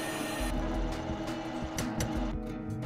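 A lathe cutting a groove with a grooving tool, fed by hand to a 20 mm groove diameter. A loud, steady mechanical whir with tonal harmonics runs throughout, broken by brief clattering scrapes.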